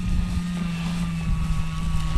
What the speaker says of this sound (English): I am taxiing in the ranch backyard with my 330.